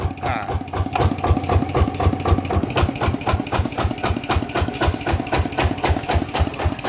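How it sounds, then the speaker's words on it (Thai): A ZT140 diesel engine idles loudly and close, with a steady rapid knocking pulse and a heavy shaking rattle that stays even throughout, with no talking. "นี่เครื่องมันเขย่านะครับ"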